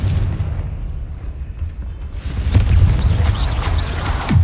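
Fiery Confringo spell blasts in the Hogwarts Legacy video game, with low rumbling booms that swell after a quieter stretch and sharp bursts near the end, loud and continuous with no talking.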